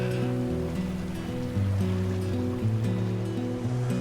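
Ocean waves break and wash continuously at the water's edge on a sea lion beach, a dense, steady surf roar with close rushing water and no voices.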